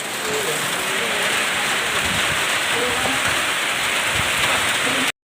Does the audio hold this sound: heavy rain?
yes